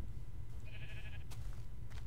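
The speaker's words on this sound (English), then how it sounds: "Just want to make sure I wasn't going to break my sword killing the sheep." A sheep in Minecraft gives a single short bleat, fairly clear over a low background rumble, followed by a brief click.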